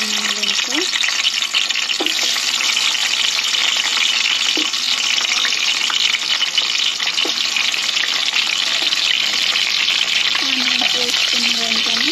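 Onions frying in oil in a kadai give a loud, dense, steady sizzle that runs unbroken throughout, with a few soft clicks from the pan.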